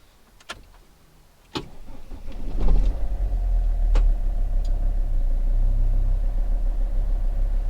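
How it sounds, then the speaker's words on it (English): A Volvo ambulance engine is started after a few clicks and a short crank, catching into a steady, loud low idle rumble that continues to the end. "I'm now just going to make sure that the car starts."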